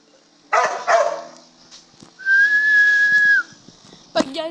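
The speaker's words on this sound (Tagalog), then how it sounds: "Ingay din kasi itong aso na ito eh." A dog gives a few sharp barks and yips nearby, followed by a long steady whistle and another bark at the end, with brief background voices.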